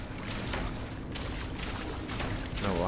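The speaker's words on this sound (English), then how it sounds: "while I'm walking in the water" Footsteps slosh through water in the video game Outriders, heard as continuous splashing and churning, fairly loud and close.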